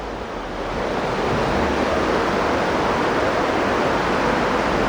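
Creek water rushing steadily through old stone culvert masonry, a dense, constant broadband roar that stays loud and even throughout with no voices.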